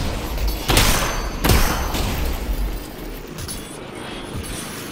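Gunfire in the VR video game Half-Life: Alyx, two sharp loud shots close together followed by lighter clinks and thuds, no talking.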